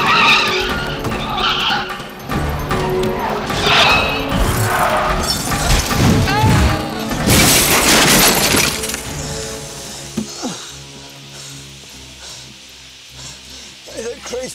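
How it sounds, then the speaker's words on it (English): A wooden crate smashes open in a movie scene: a loud, chaotic crash of breaking and splintering that peaks mid-clip amid skidding and roaring noise, then gives way to quieter rumbling. "The crate's busted open."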